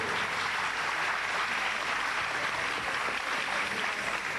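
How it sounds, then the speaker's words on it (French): Steady applause from an audience at a French quiz-show final, a dense, even patter of many hands clapping throughout without a break. "on peut applaudir pour elle"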